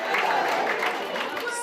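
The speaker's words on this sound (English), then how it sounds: "the man responsible for it all gets well-deserved applause" Applause for the producer at a fashion show rehearsal, a steady wash of many hands clapping close by, even and continuous throughout without a break.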